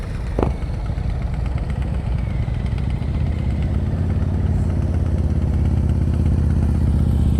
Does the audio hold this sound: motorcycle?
yes